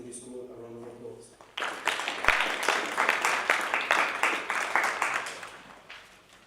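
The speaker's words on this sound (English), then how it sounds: "Please give the second speaker from Mamalemani Secondary School a round of applause." An audience applauds a debate speaker from Mamalemani Secondary School at a district road safety debate competition, a burst of dense clapping that starts suddenly after a brief tonal lead-in and fades gradually toward the end.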